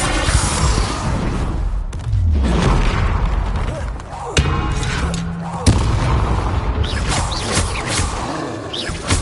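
Repeated Confringo fire-blast spells cast in Hogwarts Legacy on PS5, a dense run of booming thuds and blasts under continuous battle noise, with a voice calling out spell names throughout.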